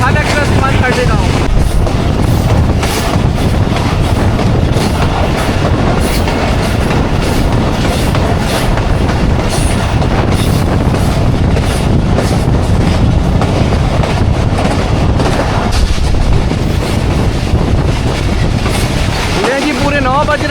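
The Thal Express, train 130 Down, rolls past on a Pakistani railway line with a loud, continuous roar and rhythmic clickety-clack of wagons over the rails, heard close up throughout.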